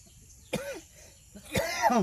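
Two coughs, close by, separated by a short pause; the second is louder and harsher, with a rough throaty edge.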